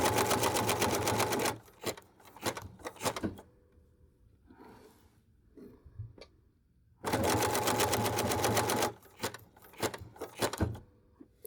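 A sewing machine stitching wool appliqué, running in two loud bursts of rapid, steady stitching separated by a quieter stretch of short starts, clicks and handling of the fabric.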